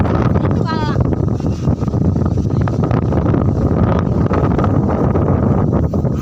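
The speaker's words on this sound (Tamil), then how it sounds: "காற்று அப்படி ஒரு காற்று அடிக்குது" Strong wind roars continuously across the microphone outdoors, a loud, steady rushing buffet with gusty fluctuations and a brief whistling tone early on.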